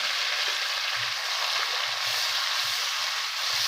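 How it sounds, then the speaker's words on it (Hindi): Onion, green chili and ginger-garlic paste fry together in a pan for dal, giving a steady, close broadband sizzle with faint stirring knocks and no talk. "सारी चीज़ें इकट्ठी डाल देंगे हम और इसको अच्छे तरीके से फ्राई कर लेंगे।"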